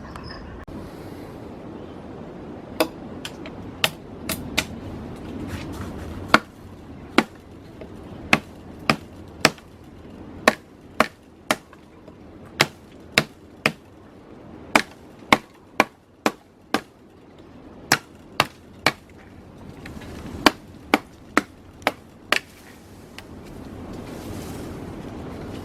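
Survival knife batoning wood at a wild camp: about two dozen sharp, evenly spaced knocks of a baton striking the blade spine, close and loud, over faint outdoor wind.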